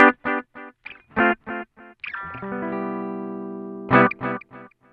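An electric guitar runs through a BOSS DD-20 Giga Delay pedal set to a single repeat, playing short clipped notes and then a long sustained ringing chord, followed by another burst of quick notes, moderately loud with no talk.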